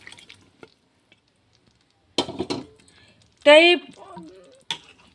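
Cooked drumstick pods are stirred into masala in a pan, giving sparse clinks and scraping stirs with a wet sizzle, while a person talks briefly and a short squeaky sound cuts in.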